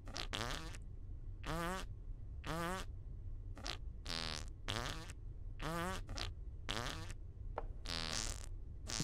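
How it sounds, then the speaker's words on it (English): Cartoonish fart noises spammed in the video game Goose Goose Duck, a rapid string of about a dozen short buzzy bursts at irregular intervals, fairly quiet and with no talking over them. "For the love of God, will you people stop farting?"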